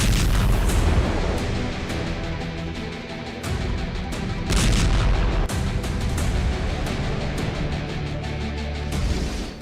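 Rocket attack and airstrike explosions hitting Hezbollah positions in southern Lebanon, a dense continuous roar of booms and blasts with repeated heavy impacts, loud and sustained throughout.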